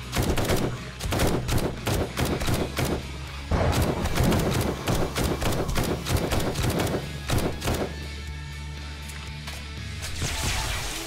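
Gunfire from the video game 7 Days To Die, with sniper shots aimed at headshots during a horde defense: dense, loud shots in quick succession with thudding impacts, nearly continuous for most of the stretch.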